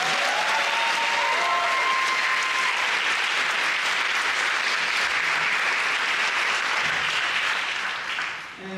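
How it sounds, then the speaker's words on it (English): A large event audience applauds the committee and chairs with loud, sustained clapping that fills the whole stretch. Faint cheers rise early on, and the applause thins slightly at the close. "so please give them a round of applause"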